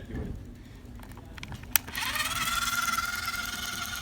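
A spark timer buzzes as a toy car starts: a sharp click, then a steady, bright mechanical buzzing that sets in and runs on continuously, close and fairly quiet.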